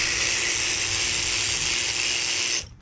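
Rapid ratchet wrench clicking steadily as alternator bracket bolts on a car called Black Magic are loosened, one continuous close-up burst of about two and a half seconds that stops abruptly.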